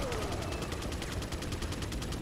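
Rapid automatic gunfire from Resident Evil 4 rattles in a fast, even stream of shots for a couple of seconds, steady and fairly loud with no talk over it.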